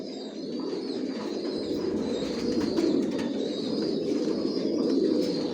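Chocolate racer pigeons sitting on eggs coo in a low, continuous rolling murmur, several birds overlapping close by, with a few faint chirps above.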